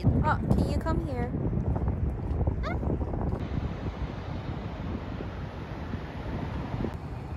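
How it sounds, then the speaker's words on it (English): Strong wind buffets the microphone outdoors with a continuous loud rumbling roar and gusts, while a person talks briefly over it at the start. "It's so windy."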